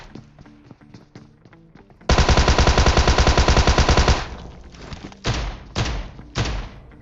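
A Tommy gun in a PUBG-style battle royale game fires a sustained, loud automatic burst lasting about two seconds, followed by three separate short bursts, with faint rhythmic tapping beforehand.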